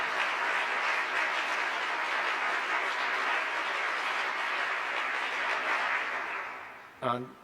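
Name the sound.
audience applause for the singers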